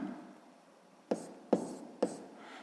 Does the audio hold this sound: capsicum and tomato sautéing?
no